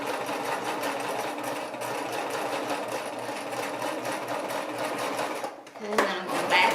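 Sewing machine stitching fabric pieces for a baby hat, a steady close mechanical whirr that runs continuously and stops near the end, with a person speaking briefly.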